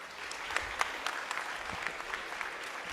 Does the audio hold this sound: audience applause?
yes